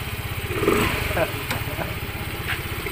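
A Yamaha Aerox 155 motorcycle engine runs roughly, misfiring with uneven, sputtering pulses and irregular pops, close by, with a voice speaking over it.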